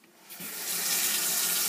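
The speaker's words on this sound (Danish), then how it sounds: "Jeg kører varmt vand her." Hot water from a kitchen tap runs in a steady, hissing stream. It starts softly and swells to a full, constant flow within a second, with no voices.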